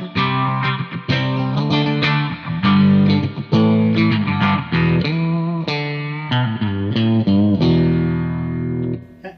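A clean electric guitar plays a melodic phrase through a Valeton PH-10 phaser pedal, swirling and sweeping, clear and close, with ringing sustained notes.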